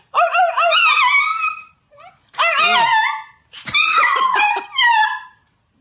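A dog howls close by in three long, wavering bursts separated by short pauses, the last rising into yelping whines.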